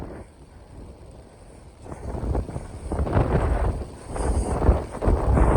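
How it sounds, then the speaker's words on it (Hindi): Strong wind gusting near a bridge in rainy Mirpur, Azad Kashmir, buffeting the microphone in loud, rumbling surges that build and swell repeatedly, with no speech. "इतनी तेज हवा है।"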